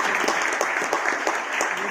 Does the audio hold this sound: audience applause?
yes